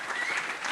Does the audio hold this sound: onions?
no